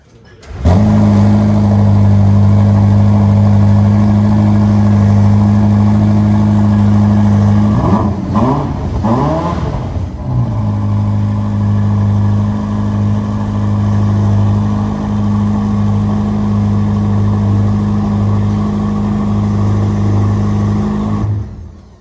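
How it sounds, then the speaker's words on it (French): A Ferrari SF90 Spider's V8 engine idles with a deep steady rumble, then revs up several times in quick succession around the middle before settling back to idle. "on va entendre ronronner le V8"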